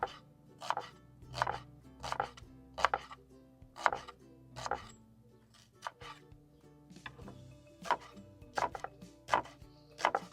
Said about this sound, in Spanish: A las costillitas hay que ponerle un poquito de cebolla, así medianamente rebanada.